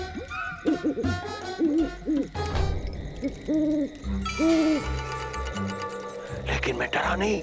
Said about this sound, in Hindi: अचानक उल्लू बोलने लगे।